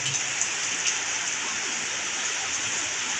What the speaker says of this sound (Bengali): বৃষ্টি হচ্ছে আলহামদুলিল্লাহ, আল্লাহ তাআলার নিয়ামত, রহমতের বৃষ্টি